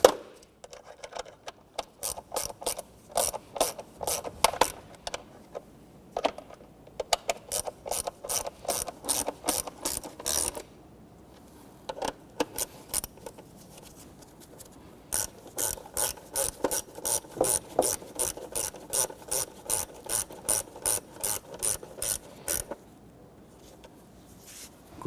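Rapid, steady clicking of a ratchet snugging down the upper bolts on the water pump housing of a 1992–1996 Toyota Camry 2.2L four-cylinder, heard in repeated bursts with brief breaks, close up, no speech.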